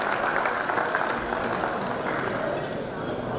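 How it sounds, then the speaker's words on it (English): A crowd at an Eid-ul-Fitr celebration dinner at the Sydney Cricket Ground gives sponsors a round of applause, a continuous wash of many hands clapping at even strength throughout. "Big round of applause, guys."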